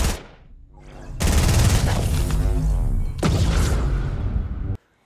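Loud bursts of gunfire in Fortnite, fired from high up at a strange cube, with two heavy volleys separated by a brief pause, each ringing out before an abrupt cutoff.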